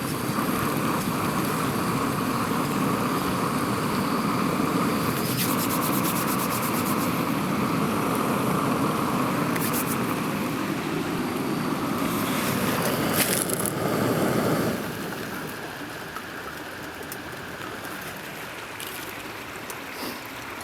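Water comes to a rolling boil in a pot atop a canister backpacking stove outdoors in the cold, a steady broadband roar and hiss that runs loud and continuous, then drops noticeably quieter after about fifteen seconds as the boil eases.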